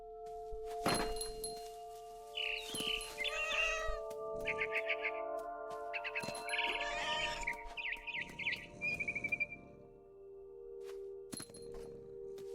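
A cat meows repeatedly in the video game What Remains of Edith Finch, several short close meows and cries over a quiet game soundtrack, with occasional thunks and a bird-like chirp mixed in.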